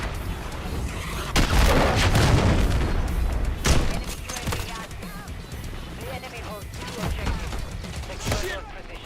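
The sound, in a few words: cruise missile explosion in a video game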